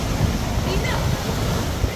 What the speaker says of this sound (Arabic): شوف البحر كي داير هنا